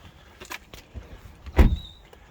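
The bonnet release lever inside an Audi e-tron electric car is pulled: a few soft interior clicks, then one sharp, close mechanical clunk near the end, with no talk.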